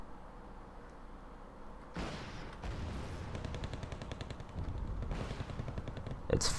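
A Challenger 2 tank fires in the Wargame Red Dragon strategy game, with several sharp gunfire bursts and rattling volleys standing out from a quiet, low battlefield background.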